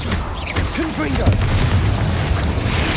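A Confringo fire spell explodes in Hogwarts Legacy with a booming blast and low rumble that rolls on under busy game sounds and faint voices.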